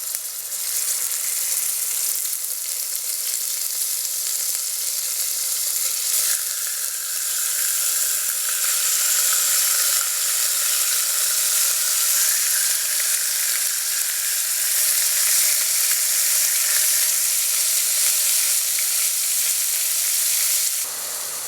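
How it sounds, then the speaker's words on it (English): Beef browning in two tablespoons of hot oil in a pot over medium-high heat gives a steady, loud, continuous sizzle with no break, heard alone without voices. "When it's hot, fry and brown the beef."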